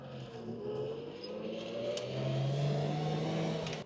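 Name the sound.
Lamborghini LM002 truck engine accelerating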